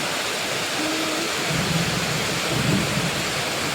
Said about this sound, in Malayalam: നല്ല ഇടിയും മിന്നലും ഒക്കെ ഉണ്ട്